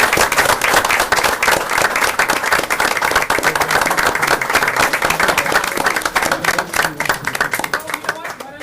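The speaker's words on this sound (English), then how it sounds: "So if we could have a round of applause for outstanding Paul Harris." A dense round of applause at a town council meeting for Rotary Paul Harris honorees, many hands clapping loudly and continuously throughout.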